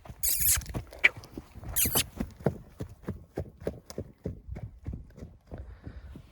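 Steady clip-clop of a mare's hooves pulling a cart on a hard surface, a brisk even rhythm close by, with a couple of brief hissy bursts near the start.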